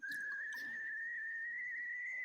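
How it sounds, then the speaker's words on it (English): A steady, high-pitched whistling tone like a tea kettle sounds continuously throughout at a basketball game between Bowie and Claflin, with faint crowd noise and brief clatter in the background. "just sounds like it's a whistling tea kettle, doesn't it?"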